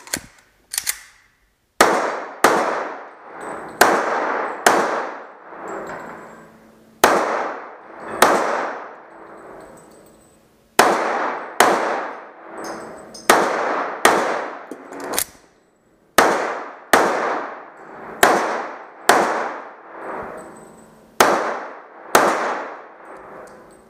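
Pistol shots ring out during an IPSC table pickup drill, fired in loud, sharp bursts of three to five rapid rounds separated by short pauses, with quiet gaps where the empty gun is reloaded.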